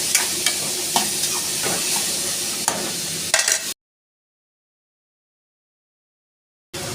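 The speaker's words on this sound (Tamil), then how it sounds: "இந்த தக்காளியோட தோல் பிரிஞ்சு வர அளவுக்கு வதக்கினாலே போதும்" Tomatoes sautéing in a pan for a spicy chutney give a steady sizzle with scraping stir strokes, close and fairly loud, cutting to silence halfway through before a brief return at the end.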